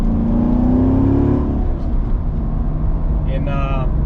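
A manual-transmission Corvette with about 50k miles revs up through the gears, its engine droning strongly at close range with a pitch change as it shifts, and a voice speaks over it.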